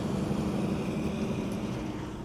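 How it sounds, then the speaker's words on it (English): A loud truck roars by close up, a dense, steady rumble with engine drone that eases off slightly toward the end. "Another loud truck."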